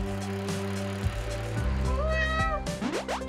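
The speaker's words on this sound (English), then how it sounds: "Have we ever met Kitty Cat?" Cat meowing in the video game A Space for the Unbound: a few rising and falling meows over a steady droning game music bed, fairly close, with no talk.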